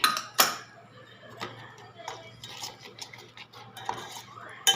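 A metal utensil scrapes and clinks against a pan while dal is stirred and sautéed, with irregular sharp taps and soft scraping at close range over a quiet low hum.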